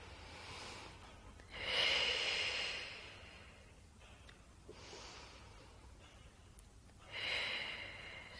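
A person breathes slowly and deliberately during a Pilates core exercise, with long airy exhales and inhales that rise and fade, close but soft. There is no talking.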